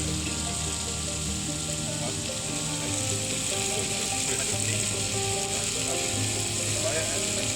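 Meat sizzles on an induction cooker at a camp, a continuous dense frying hiss with faint clicking textures throughout, steady and fairly close.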